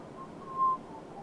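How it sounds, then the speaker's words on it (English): A single short, soft whistled note, held briefly, over a quiet room hum. "Sorry, I'm whistling."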